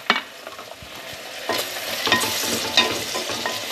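Onions fry in a pan for a Rayalaseema-style stuffed eggplant curry, a soft hiss of sizzling broken by scraping spoon strokes as they are stirred, close and fairly quiet with no voices.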